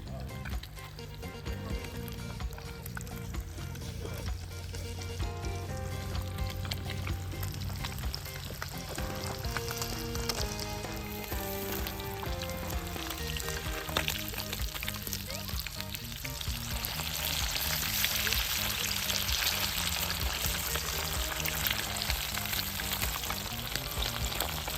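Green banana, green plantain and white yam frying in piping-hot oil over an outdoor wood fire, a loud continuous sizzle and crackle, close up and steady throughout with no talk.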